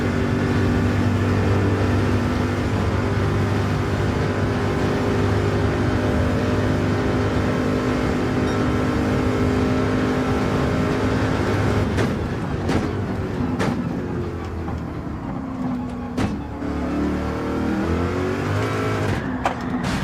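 A Corvette race car in Gran Turismo 7 at Suzuka accelerates with a loud, sustained engine roar, broken near the end by a few sharp gear shifts and pitch dips.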